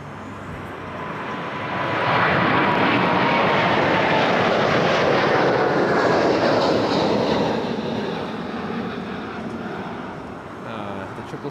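An Air Canada airliner comes in to land on runway 05 at Toronto Pearson Airport. A broad, loud engine roar swells and holds near overhead, then gradually fades and thins out.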